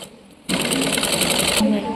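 Sewing machine stitching an Anarkali frock, a rapid steady mechanical whirr lasting just over a second after a quiet start, close and fairly loud.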